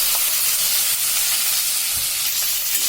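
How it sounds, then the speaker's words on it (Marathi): Okra sizzles in hot oil with mustard seeds, asafoetida and curry leaves for a Karwar-style bhendi saar, a loud, steady, close frying hiss with faint crackles. "आता ही भेंडी घालूया।"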